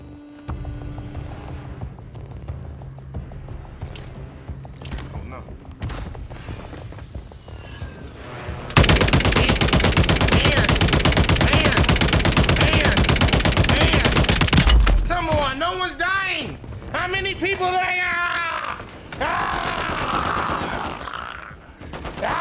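Rapid gunfire from Call of Duty Modern Warfare 3 rattles out in a loud sustained automatic burst lasting several seconds, then gives way to scattered shots and whooshing effects.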